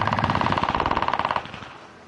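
Rapid sniper rifle fire in a video game, a fast rhythmic burst of sharp repeated shots lasting over a second, then a fading tail of echo; loud and close with no talking.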